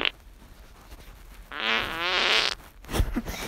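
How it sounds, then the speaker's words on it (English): Cartoon cat in the Talking Tom mobile game lets out a loud, buzzy fart lasting about a second, followed by a short squeaky rasp, with no talking over it. "So let's make him fart."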